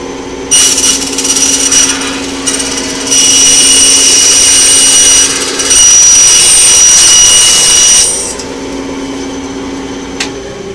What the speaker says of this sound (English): I'm gonna go over to my belt saw, or my bandsaw, sorry, and I'm gonna cut both pieces at the same time